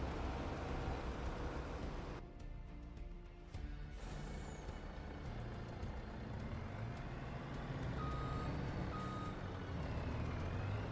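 Steady reversing beeps from a truck in the video game Farming Simulator 25, repeating evenly over a continuous loud engine drone and rumble throughout.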